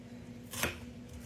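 A single onion being diced on a cutting board in a home kitchen, one sharp knife chop standing out near and clear against quiet background hum.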